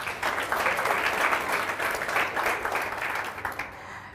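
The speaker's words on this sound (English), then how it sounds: "Another round of applause for Louisa Garland." Applause rises from the audience at the Standard Bank KZN Top Business Women live show, a sustained wash of clapping at moderate level that fades slightly near the end.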